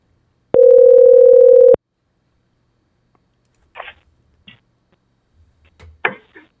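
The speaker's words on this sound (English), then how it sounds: "And once that's done, I can make the phone call again." A single steady electronic tone, like a phone call signal over a VoIP smartphone connection, sounds loud and close for about a second, followed by faint clicks and rustling.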